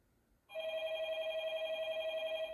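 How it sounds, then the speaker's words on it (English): A phone rings with a steady, warbling electronic tone that starts abruptly after a brief quiet moment and keeps going, clear and alone. "his phone's ringing now"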